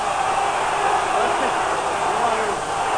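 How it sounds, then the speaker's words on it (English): Broad, steady crowd roar filling a basketball arena during the 1977 NBA All-Star Game, a dense continuous wash of many voices with no distinct words standing out. "You can hear the crowd in the background."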